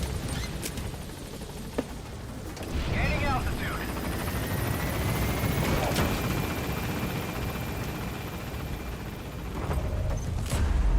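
A helicopter extraction lifts off in Metal Gear Solid V, its steady rotor roar filling the scene at close range with a whining turbine tone, while voices talk over it.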